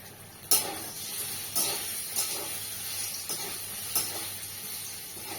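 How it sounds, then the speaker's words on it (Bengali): Paneer fries in a hot pan, giving a continuous sizzling hiss punctuated by about five sharp spatters at roughly one-second intervals, close and clear without speech. "পনিরটা আমি বেশি ভাজবো না, মোটামুটি ভাজবো"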